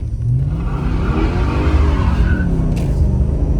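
A loud, close V8 engine of a Mercedes AMG roars hard under acceleration, with a brief squeal from old tires spinning rising over the heavy rumble.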